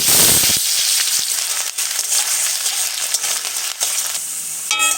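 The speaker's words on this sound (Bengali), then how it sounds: "আলুটা আমার হালকা ভাজা হয়ে গেছে" Potato pieces fry in hot oil seasoned with black cumin (kalo jeere) in a home kitchen, giving a loud, steady crackling sizzle, with a sharper burst of spattering at the very start and a few stirring scrapes.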